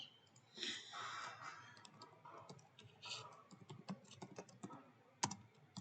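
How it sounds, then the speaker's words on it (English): Quick, light keystrokes on a computer keyboard as an email address is typed, an irregular run of soft clicks with a sharper tap near the end, close and quiet. "However, I will type it again."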